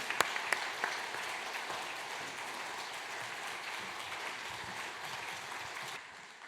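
A church congregation applauds as the pastor comes forward for a Sunday service, a steady wash of many hands clapping that is moderately distant, with a few sharper claps at the start and then a fade near the end.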